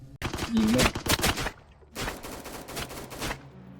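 Rapid machine gun fire in a video game, bursts of dense shots crackling in two loud stretches with a short lull between them, while a voice talks over the action.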